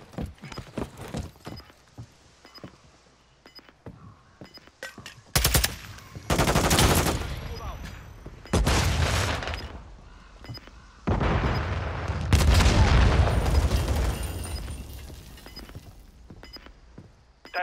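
In a multiplayer video game match, bursts of automatic gunfire come in loud clusters separated by quieter stretches with scattered sharp shots and effects.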